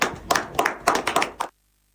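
Several sharp, uneven claps ring out close by for Truth Media's first anniversary during a morning devotion, a short ragged burst that stops abruptly into silence.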